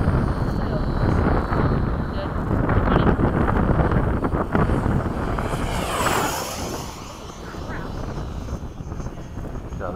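A model F-5 jet flies a fast downwind pass, its engine roaring continuously with a rush that swells and fades slightly, mixed with heavy wind buffeting on the microphone.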